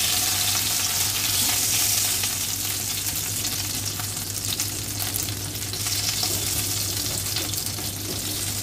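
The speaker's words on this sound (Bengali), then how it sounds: "এই তেলের মধ্যে আমি একটা দিয়ে দেবো তেজপাতা, ছিঁড়ে দিয়ে দিলাম, আর একটা গোটা শুকনো লঙ্কা" A torn bay leaf and a whole dried red chili fry in hot oil with a steady, dense sizzle and occasional stirring scrapes, close and continuous with no talking.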